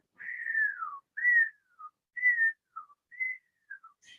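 A voice whistles in imitation of eerie whistle sounds in a forest: a series of clear, gliding tones, the first long and falling, followed by shorter phrases and brief chirps, close and alone with no talk.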